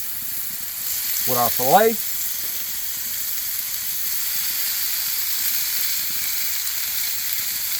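New York strip steak sizzling on a Blackstone griddle, a loud steady hiss of searing meat filling the whole stretch, with a short burst of speech near the start.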